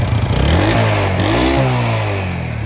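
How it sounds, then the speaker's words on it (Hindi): A motorcycle engine revs hard with black smoke coming from the silencer, a loud, close, rising mid-pitched roar that holds steady and then eases slightly over a few seconds. "अभी मैं बाइक को रेस दूंगा।"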